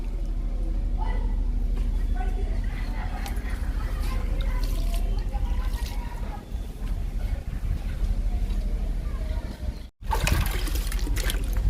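Liquid is poured steadily into indoor plant pots, including a clay biryani pot used as a planter, making a continuous close splashing trickle that runs almost unbroken before a brief pause.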